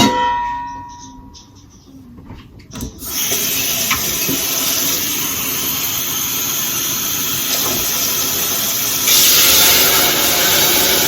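While cooking, water is poured off from a pot that was boiling over. After a clang of metal comes a strong, steady rush of water close by that carries on to the end.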